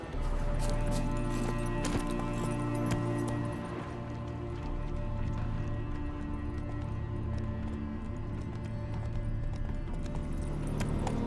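Steady rhythmic clip-clop of horse hooves at a gallop over a continuous loud music or ambient bed, with faint speech-like sounds, in The Witcher 3: Wild Hunt.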